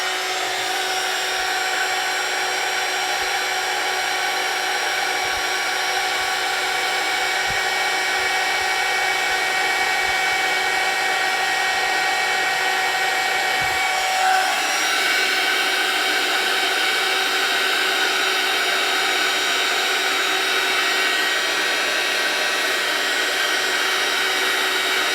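A handheld heat tool reheats embossing powder on a gel print made with hexagon stencils, producing a constant, close whirring hum for about twenty-five seconds with faint clicks and a slight shift in tone midway.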